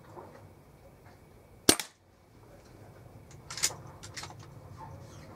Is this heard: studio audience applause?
no